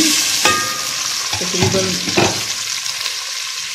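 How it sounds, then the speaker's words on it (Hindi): Onions frying in oil for a ghee-free mutton biryani crackle and sizzle in a steady hiss, with several scraping stirs of a spoon against the pan and a brief spoken word at one point. "अब ऑयल जो हमने यूज़ किया है उसी में डाल देंगे हम ऑनियन"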